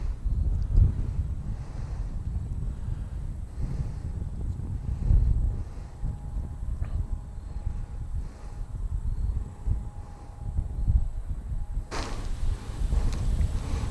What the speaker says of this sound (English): Now that wind's kicking up.